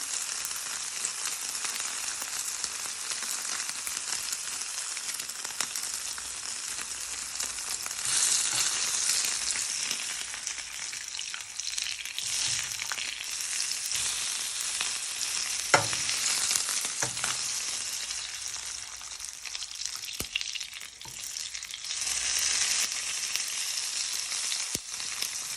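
Chinese starters fry two at a time in a pan, a continuous close sizzle and crackle that swells and eases over the stretch, with a sharp clink partway through and no talking.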